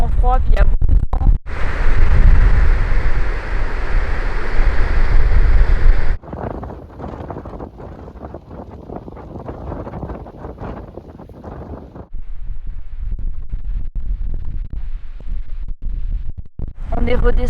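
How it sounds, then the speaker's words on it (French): Strong, cold wind on a mountain hike in the Queyras, loud gusts roaring into the microphone in bursts that drop and return, with a brief quieter stretch midway. "il y a beaucoup de vent"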